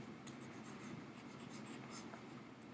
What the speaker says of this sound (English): Let me go ahead and erase this again.